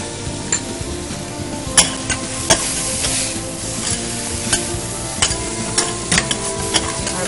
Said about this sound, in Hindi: इसलिए इसको अच्छी तरह उसमें ही जैसे कहते हैं ना भून लेना